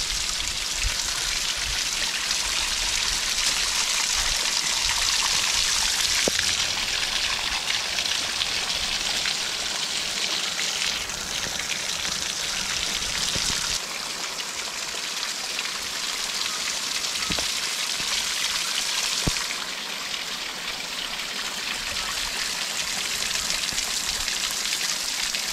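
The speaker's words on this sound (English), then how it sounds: "Here we are at the bottom of the waterfall." Waterfall at Hastings beach, a steady broadband rush of falling water that stays loud and continuous throughout, with slight shifts in intensity and no voices.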